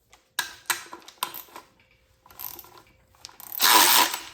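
A ratchet works on the transmission cooler lines bolted to the oil pan of a BMW N55 engine from a 335i wagon, giving several quick clicking bursts with pauses, then a louder, denser rasping run at the end.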